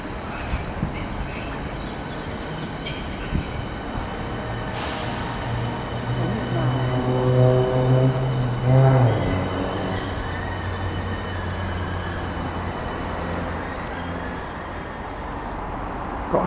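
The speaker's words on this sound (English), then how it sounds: "Just got another javelin coming into platform 5." A Javelin train bound for Dover Priory rolls into platform 5 at Ashford station, a rising rumble with tonal motor whine and faint wheel squeal that peaks mid-clip and then settles into a steady hum.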